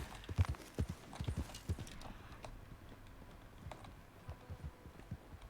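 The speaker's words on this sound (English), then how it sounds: "Run like the wind, horsey." Quick hoofbeats of a horse galloping in Red Dead Redemption 2, a clear rhythmic clip-clop that starts loud and close, then thins into softer, scattered strikes.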